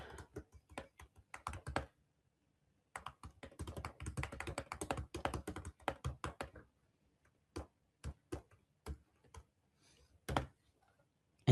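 Custom text is typed on a computer keyboard in quick bursts of close, crisp key clicks, with short pauses between clusters and a few isolated taps near the end.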